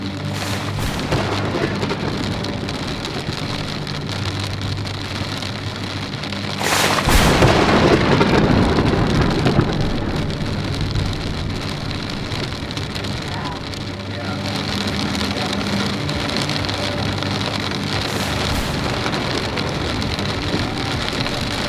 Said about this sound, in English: the rain had turned into a horrendous thunderstorm